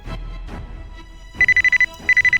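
A video game phone ringtone chirps in two bursts of rapid electronic trills, with a brief pause between them, after a couple of soft thumps.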